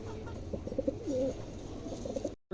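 A pair of silver and almond pigeons coos softly and steadily in low, rolling warbles over a constant background hum, cut off briefly just before the end.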